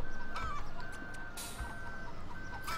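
Chickens cluck and squawk in short, repeated bursts in the Farming Simulator 2013 video game, set against a faint electronic tone and background hum.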